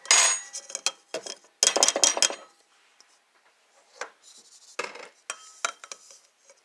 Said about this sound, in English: so we're going to mix all this into one bowl